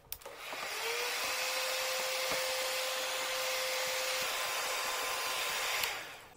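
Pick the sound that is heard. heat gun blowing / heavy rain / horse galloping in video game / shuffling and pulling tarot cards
heat gun blowing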